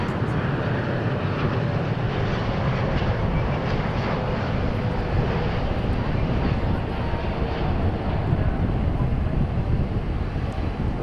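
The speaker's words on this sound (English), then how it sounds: "And there is our 747-8 from Chicago O'Hare." A Boeing 747-8 airliner from Chicago O'Hare at DFW airport gives a broad, steady roar of jet engines mixed with wind buffeting, loud and sustained across the whole stretch.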